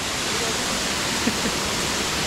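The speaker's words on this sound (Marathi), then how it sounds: "सुंदर आहे हा धबधबा बघा." A waterfall in Guhagar, in the Konkan region of Ratnagiri, roars steadily nearby, a dense unbroken rush of falling water with faint voices barely audible beneath it.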